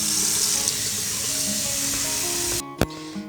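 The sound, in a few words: water filling a soup pot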